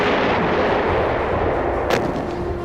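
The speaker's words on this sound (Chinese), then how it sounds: "前主炮可以射击" Warship main gun fire aboard a Beiyang fleet vessel in a war film set during the Battle of the Yellow Sea, a loud sustained rumbling roar of heavy cannon with a sharp crack near the end.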